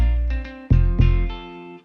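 A deep bass line from a soca remake plays a few short booming notes in a simple repeating pattern, loud and close with strong low-end thump and no talking.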